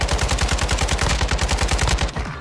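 Rapid automatic gunfire in Warzone 2, a fast even burst of about two dozen sharp shots fired close up, which stops just before the end.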